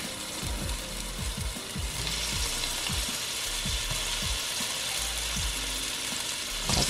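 Onion sizzling as it fries in a pan, a steady hiss with a series of sharp, regular knife chops on cabbage heard close by alongside it.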